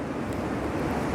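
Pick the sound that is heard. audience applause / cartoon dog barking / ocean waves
ocean waves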